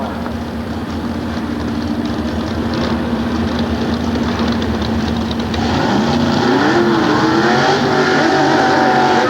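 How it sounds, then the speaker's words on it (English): A Chevrolet drag racing car makes a single run in the right lane at a 1993 nostalgia drag meet at Sears Point, its loud engine droning steadily, then rising in pitch as it accelerates away, with no talk over it. "And the Chevrolet on a single run in the right lane."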